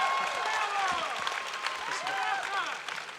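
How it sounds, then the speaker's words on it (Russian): An audience applauds ballet dancer Sergei Polunin at an outdoor park show, continuous clapping sitting under a voice speaking over it for the whole stretch. "Аплодисменты Сергей Полунин."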